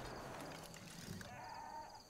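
Sheep bleating in the video game Far Cry 5, a drawn-out bleat near the end of the clip over steady in-game ambient noise.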